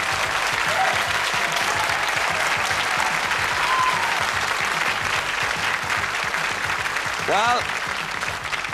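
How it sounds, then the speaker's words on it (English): A television quiz show studio audience applauds contestant Peter Schmidt-Bauer, sustained even clapping throughout with a host's voice briefly heard near the end. "A round of applause."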